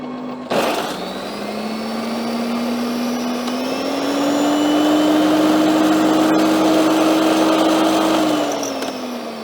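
A secondhand food processor with its basic chopper blade fitted starts with a click and runs as a loud, steady motor whine that rises slightly in pitch as it speeds up, then eases off.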